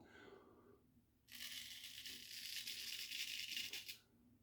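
A straight razor honed on a coticle stone shaving whiskers, giving a near, faint, continuous scraping rasp that lasts under three seconds with no talk.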